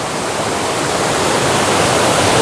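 A stream spills onto a big stone at a three-tier waterfall in a Dabanggre village plantation area of the West Garo Hills, Meghalaya, making a steady, loud, close rush of falling water with no voices.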